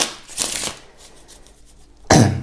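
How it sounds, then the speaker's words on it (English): A deck of playing cards riffled by hand during a card trick, a quick shuffle burst early on and a sharper, louder riffle near the end, separated by a quieter pause. "So they shuffle the deck 4 times"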